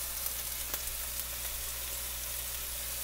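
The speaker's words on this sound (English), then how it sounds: "use that oil to cook the fish" Fish frying in olive oil on a stovetop, a steady, even sizzle with faint crackles, continuous and fairly quiet throughout.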